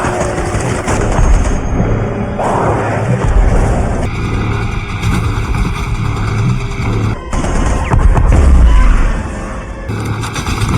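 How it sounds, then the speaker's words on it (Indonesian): Heavy booming blasts and crashing impacts of a landmine explosion roll through a dense, loud soundscape, with a deep explosion swelling near the end. "saat makhluk itu jatuh dan mengenai sebuah ranjau darat, ledakan bom itu mengenai dadanya"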